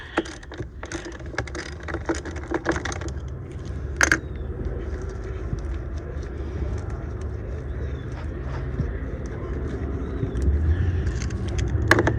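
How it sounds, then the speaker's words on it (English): Cars pass at a truck stop as a low, continuous road rumble, while sharp nearby clicks and metallic jangles of tools sound during work on big truck batteries. "if you hear any automobiles around me, I am at a local truck stop doing this"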